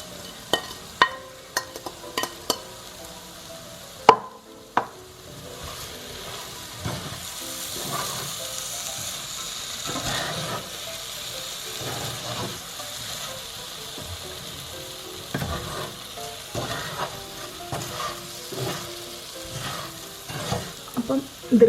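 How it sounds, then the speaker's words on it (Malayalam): Roasted poha being stirred and mixed in a pan: soft scraping and rustling strokes in an irregular rhythm under a low sizzle, with a few sharp utensil clicks near the start. "വറുത്ത് വെച്ചിരിക്കുന്ന അവൽ കൂടെ ഇതിനകത്ത് ചേർത്ത് കൊടുത്ത് നല്ലപോലെ മിക്സ് ചെയ്യാം"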